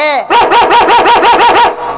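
A dog barking in a rapid run of about eight loud, close yips, set in a comic Kannada stage drama scene, preceded by a short whining cry.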